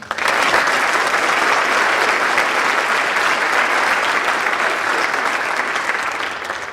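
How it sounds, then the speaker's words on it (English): Crowd at a National Honor Society ceremony gives sustained applause, a loud, dense roar of many hands clapping steadily for nearly seven seconds with only a slight fade at the end. "Your accomplishments are worthy of my respect, my admiration, and of course, a round of applause."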